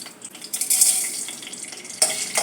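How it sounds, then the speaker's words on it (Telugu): Tempering spices, including mustard seeds, chana dal, urad dal and dried and green chillies, crackle and sizzle as they hit hot oil, a bright spattering hiss with a couple of sharper bursts. "నూనె వేడెక్కిందంటే పోపు దినుసులు వేసేసుకుందాం"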